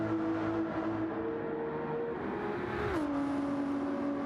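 Race cars in Gran Turismo 7 accelerating out of a turn onto a backstretch, their steady high engine whine held loud and close before the pitch drops on an upshift, continuing without speech.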